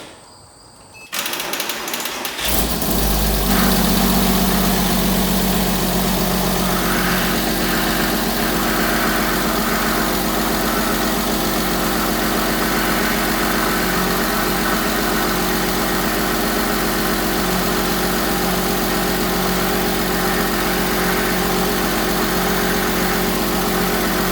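A Porsche Boxster S engine starts after a brief quiet moment, then settles into a steady, close idle with a faint high whine from the power steering pump running underneath.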